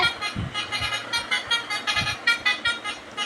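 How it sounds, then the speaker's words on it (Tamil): Repeated short vehicle horn toots over steady road traffic, several bursts spread across the clip, moderately loud. "ஹாரன் உங்களுக்கு சவுண்டாக இருந்தால் நல்லாயிருக்கும்"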